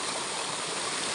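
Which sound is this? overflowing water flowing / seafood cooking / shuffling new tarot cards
overflowing water flowing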